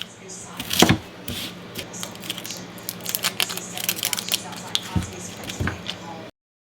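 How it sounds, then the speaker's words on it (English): A knife cuts through onions on a board in a few sharp crunchy strokes near the start and more scattered slicing after, moderately close, with quiet rustling between cuts. "What I need to do is to slice 3 nice medium onions"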